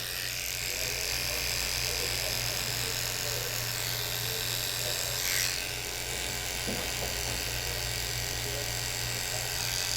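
Electric hair clippers fitted with a 5-0 blade buzz steadily and loudly at close range while cutting hair for a bald fade. The drone is constant and unbroken for the whole stretch, with no talking over it.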